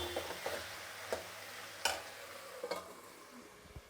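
Tempering spices for buttermilk curry fry in a pan with a soft, steady sizzle, broken by a few sharp clicks and scrapes of a spoon stirring against the metal.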